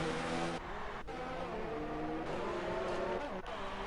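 Race cars roar through a Formula-style racing video game at the Spain round, engines droning with shifting pitch and a few sharp gear-change cuts as a pack of cars runs close together.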